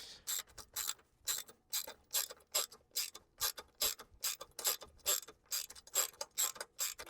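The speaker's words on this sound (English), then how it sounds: "grab the 10 millimeter, place it on the nut, grab a 4 millimeter hex and tighten it up" A 10 mm ratchet wrench tightens a roof rack nut on a 5th-gen Toyota 4Runner, giving quick bursts of crisp pawl clicking in a steady back-and-forth rhythm, close and fairly quiet, with no talking.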